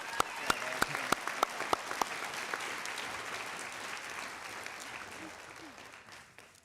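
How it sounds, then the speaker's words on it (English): Graduation ceremony crowd applause, opening with several sharp, close hand claps over a dense wash of clapping that gradually softens and tapers off. "Let's have one more round of applause for our graduates."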